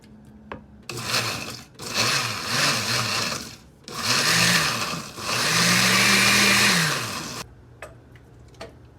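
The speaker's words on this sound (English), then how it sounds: "Let's take the rest of the tomatoes and blend them in a blender." A kitchen blender pulses through tomatoes in several loud whirring bursts, short spins at first, then longer revving runs with pitch rising and falling, ending in a sustained blend before stopping; light clicks follow.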